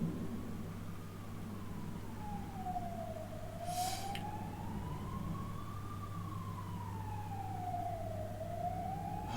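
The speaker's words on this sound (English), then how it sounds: "Oh, I love those ambulance sounds, don't you? It's so harmonic." An ambulance siren wails in a slow rising and falling sweep, steady and fairly loud over a low constant hum, with a brief scraping burst partway through.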